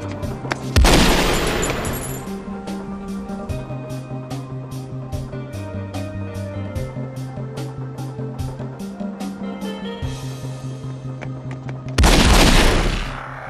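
Gunfire from a film gunfight scene in The Mission: loud bursts of shots open and close a long run of evenly spaced sharp cracks over a low, pulsing musical drone.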